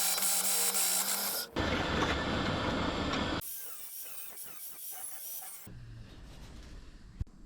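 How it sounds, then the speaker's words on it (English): A hole saw cuts through 2mm steel plate, a harsh grinding and rasping drill sound in several distinct stretches, shifting in tone as the cut progresses, close and fairly loud, ending with a sharp click. "I'll hole saw something out of this bit of 2mm steel plate."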